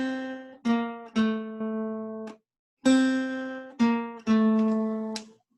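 An acoustic guitar plays the opening notes of a theme on the second and third strings, each note plucked cleanly and left to ring, close and alone, with the short phrase played twice after a brief pause.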